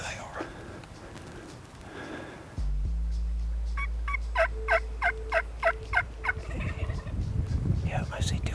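Wild turkeys gobble in the distance during a turkey hunt, a run of rapid gobbles under low whispered talk and a steady background rumble.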